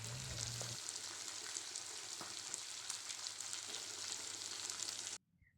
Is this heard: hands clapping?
no